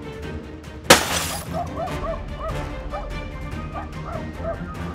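A neighbor's dog barking at night, several sharp yips and barks at moderate distance after a sudden crash-like burst, over a low background hum.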